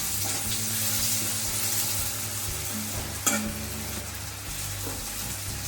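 Onions frying in a pan for mutton rogan josh give off a steady low sizzle with occasional stirring scrapes and one sharp clink, close and continuous with no talk.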